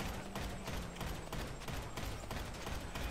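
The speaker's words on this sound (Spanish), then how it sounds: "¿Cuántos tiros le tengo que pegar, hermano?" Rapid gunfire from a shootout in the video game GTA V Online crackles continuously in dense, loud bursts over a steady background, with no pauses between shots.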